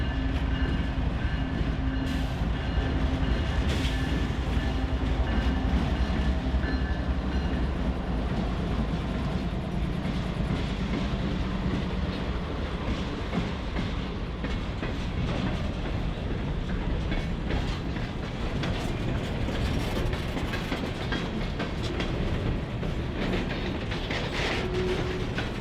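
A CN all-rail iron ore freight train rolls past steadily and loudly for the whole stretch, with a continuous rumble, rattling ore cars and intermittent clicking and clanking of wheels over rail joints, and no voices.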